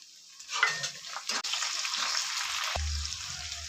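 Chopped tomato drops into a hot frying pan with sliced onion, bursting into a bright, steady sizzle that starts loud and then settles into an even crackle close by.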